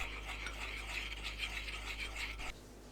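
A spoon scrapes and stirs a thick Korean sauce of minced garlic, mirin, cooking oil, grain syrup, oyster sauce, doenjang and gochujang in a bowl, in steady close rhythmic strokes over a low hum, stopping abruptly near the end.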